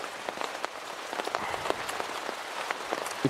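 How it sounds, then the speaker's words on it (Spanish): Steady rain falls outside in a tropical jungle around seven in the morning, a dense patter of drops hitting surfaces, continuous and fairly close with no voices. "Ahí fuera llueve y hace frío."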